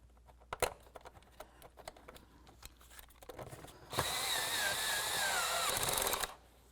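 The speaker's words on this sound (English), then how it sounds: "Start in your bolt, tighten it up." A bolt goes into the air cleaner bracket of a 2003-08 Toyota Matrix: light clicks and handling taps first, then a steady power-tool whir runs for a couple of seconds up close before stopping.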